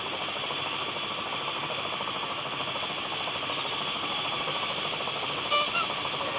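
A helicopter flies steadily in the Dude Theft Wars video game, its rotor and engine producing a constant, dense drone that stays even and loud throughout.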